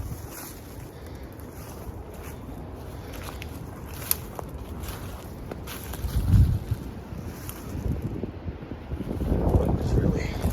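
Gusty wind buffets the microphone outdoors in woodland, a constant roar with stronger surges near the end; brief speech is faintly present.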